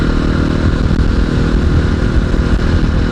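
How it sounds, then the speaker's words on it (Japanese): A motorcycle engine rumbles loudly and steadily nearby on a road near Okutama, a continuous low drone with rattling noise layered over it. "こっちの方来るとバイクがポツポツと現れてきましたね"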